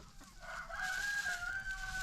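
A Brahma rooster crows once in a drawn-out, fairly distant call, rising and holding before trailing off, with no other sounds around it.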